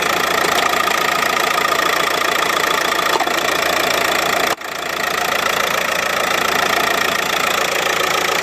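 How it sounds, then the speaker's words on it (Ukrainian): Steady, loud idle of a 2013 Renault Megane III engine with an even mechanical chatter throughout, briefly interrupted by a short dropout midway. "Двигун працює рівненько."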